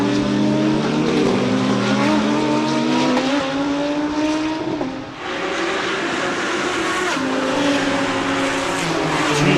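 Extreme Supercars racing on a track at the National Extreme Festival, loud engines roaring and shifting as cars pass close, with a continuous rising and falling whine of several cars.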